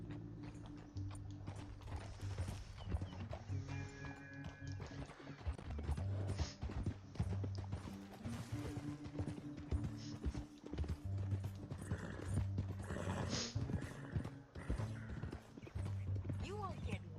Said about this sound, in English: Get back on your horse.